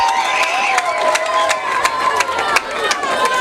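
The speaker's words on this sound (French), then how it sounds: "Les acclamations, s'il vous plaît." Crowd cheering and applauding to welcome a visiting general at his former school, a steady dense roar of voices with sharp claps and whoops throughout, fairly loud and close.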